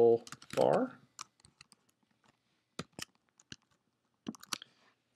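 Typing on a computer keyboard during a lecture, a short scatter of crisp, separate key clicks up close with pauses between them, following a brief stretch of speech at the start.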